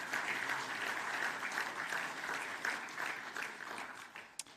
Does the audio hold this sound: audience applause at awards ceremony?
yes